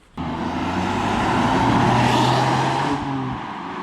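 A 2015 BMW M3 F80 engine revs up under acceleration, a loud, close, sustained roar that climbs steadily and holds for several seconds before easing slightly.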